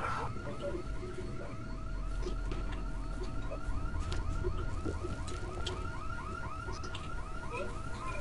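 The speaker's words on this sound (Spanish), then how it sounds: "Joder, y la alarma del coche puesta," A car alarm blares in the Dead Island video game, cycling through a steady repeating whoop pattern over a dense background of game noise and rumble, with no talking.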